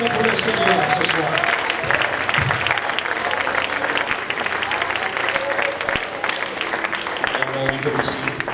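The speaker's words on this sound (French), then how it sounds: "would you just clap your hands one more time unto the Lord?" A church congregation claps and cheers during a worship service, a dense sustained wave of applause from a large crowd with voices mixed in, steady and fairly loud throughout.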